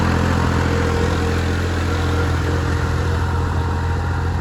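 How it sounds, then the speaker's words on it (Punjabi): A tractor engine idles close by with a steady, loud, constant low rumble and no pauses, running alone without any voices. "ਟਰੈਕਟਰ ਕਿਵੇਂ ਲੱਗਿਆ ਚੱਲਦਾ"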